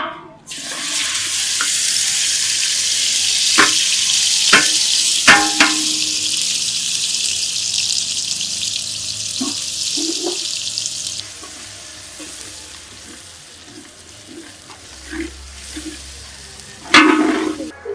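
Loud, steady sizzling of ground spice paste frying in hot oil in a pot over a wood-fired clay stove, for Kanduri mutton, with occasional clinks and stirring scrapes, then quieter sputtering toward the end.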